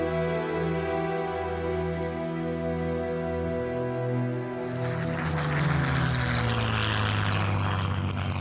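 A World War II Spitfire's piston engine drones with a steady propeller hum, then swells louder and rougher as the aircraft passes close overhead, filling the sound with broad roaring noise.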